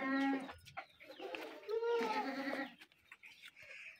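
DDP goats at a livestock market in Pakistan bleat loudly and close by, with several overlapping calls in quick succession and a fainter bleat near the end.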